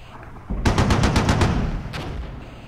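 A machine gun in the Cold War tank battle game Armored Brigade fires a loud, rapid burst of about six shots, then one more short shot after a brief pause, against a low rumbling background.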